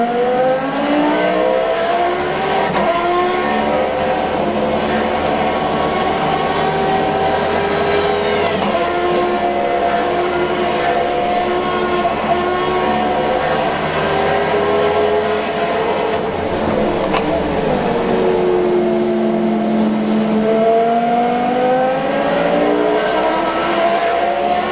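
Formula 1 car, Ayrton Senna's McLaren, in a racing simulator game at Oulton Park: a continuous high-pitched engine whine rising and falling through gear changes and revs, loud and close for the whole stretch with no talk.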